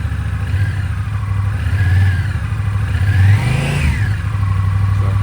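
2025 Honda Rebel 1100T motorcycle with a Coffmans Thunder exhaust, idling with a deep rumble then revved up and back down a couple of times, close and loud with a faint higher whine.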